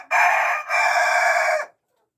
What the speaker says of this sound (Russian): Это тоже старый петух